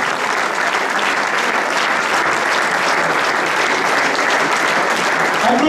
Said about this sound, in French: Applaudissements, mesdames et messieurs, pour la région Alsace